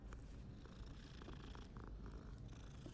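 A cat purring softly in the wizarding school game Hogwarts Legacy, a low steady rumbling hum, faint and close, heard alone without talk.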